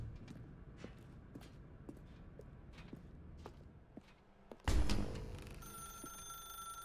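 A phone rings in the video game The Stanley Parable, with a sudden loud burst of ringing after a stretch of soft, steady footsteps and room ambience.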